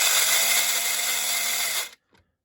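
A dry, noisy SCX Ferrari 333SP slot car motor runs close by with a steady, harsh high whine, then cuts off abruptly, leaving a brief faint click afterward.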